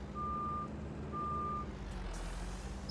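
Truck reversing beeps in Farming Simulator 19: two long steady tones over a constant low engine rumble, followed by a brief hiss like an air brake near the end.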